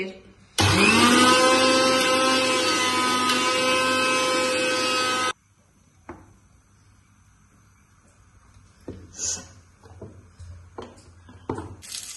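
A mixer grinder with a large jar grinds garlic and cumin into paste in one loud, steady whirring burst of about five seconds, then falls quiet, leaving only faint knocks and handling sounds.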